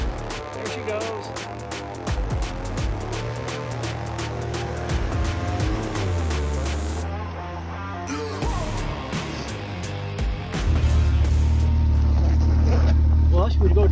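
A Can-Am X3 side-by-side spins around in snow, its engine droning and surging in changing pitch with sharp clattering bursts, rising to a heavier roar at the end while people talk nearby.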